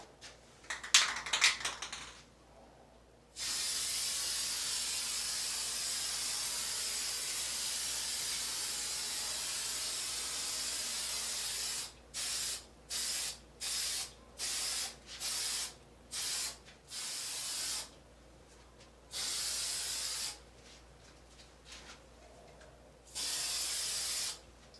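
Bursts of aerosol spray paint hiss while coating a bathroom sink vanity: one long steady spray, then a rapid series of short puffs and two longer passes, close and fairly loud with quiet gaps between.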